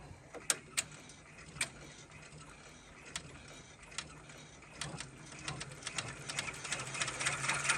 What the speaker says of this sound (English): See how it's sped up there because of the satin stitches being so close together. But then when it does those jump stitches, it's got to slow down a little bit.